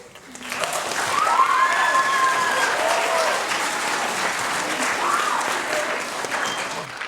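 Audience applause at a school band holiday concert: loud, sustained clapping from a crowd that rises quickly and holds steady for several seconds, with a voice briefly audible under it.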